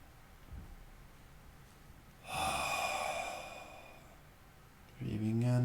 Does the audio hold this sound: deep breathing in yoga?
yes